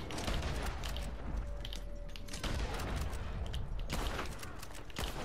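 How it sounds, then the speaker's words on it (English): Gunfire from the video game Red Dead Redemption, dense bursts of rapid shots and booms crowding together, loud and continuous with brief gaps, no talking. "I'm gonna keep shooting your horse if you don't stop coming here."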